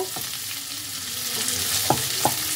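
Onions fry in oil with a loud, close, continuous sizzle, punctuated by a few crisp clicks of a spoon stirring against the pan.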